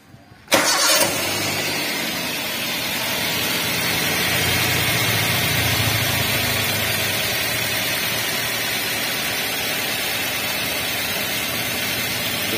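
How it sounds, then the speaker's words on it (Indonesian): A Toyota Avanza engine, just back from repair of a rough-running fault, cranks briefly and catches, then settles into a steady, smooth idle that continues close and loud with no talking. "Untuk tahap terakhir kita tes hidupkan mesinnya."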